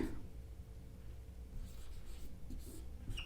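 Chalk or marker scratching steadily on a board during a Hindi grammar class, a close, continuous scraping stroke sound with faint room noise behind it.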